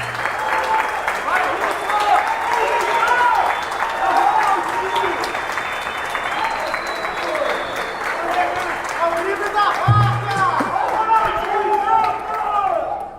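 Crowd applause for a city councilman at a political event in Brazil, a steady wash of clapping with cheering and voices mixed through it, plus a brief thump partway through.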